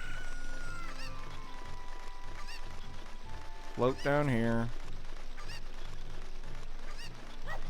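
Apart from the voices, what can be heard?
chicken clucking in the video game Ocarina of Time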